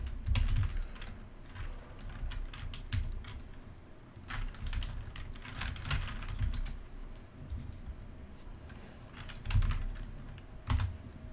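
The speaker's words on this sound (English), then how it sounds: "typing with my headphones plugged in and the microphone on is actually painful to me." Typing on a computer keyboard close to the microphone, a steady run of rapid clicking keystrokes with a few louder bursts, going on without pause and with no talking.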